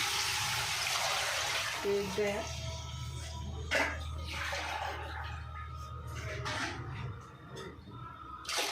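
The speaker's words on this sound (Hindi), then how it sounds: "अब पानी डाल रहे हैं" Water poured into a cooking pot of rice in a home kitchen, a steady splashing pour running for several seconds close to the mic, with a voice talking over it.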